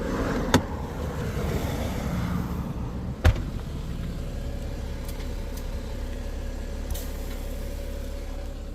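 A car engine towing a caravan down a national park road revs hard in second gear, a constant loud drone with a few sharp knocks on top, and no talk.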